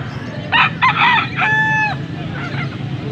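Roosters at a cheap-chicken market in Angeles, Pampanga, including white-legged birds, give several short clucking calls and then one clear drawn-out crow, close and loud over a low murmur of background noise.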